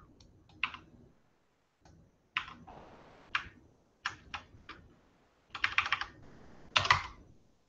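Computer keyboard typing in short bursts of quick clicks separated by pauses, close and fairly quiet, with the bursts growing denser and louder toward the end.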